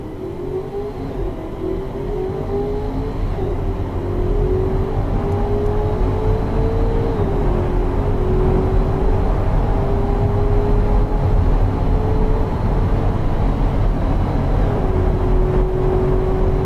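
A simulated Noble M600 replica engine in the Automation car-building game revs with a loud, steady drone that climbs slowly in pitch, dips briefly, then keeps rising and holds high with no talk over it.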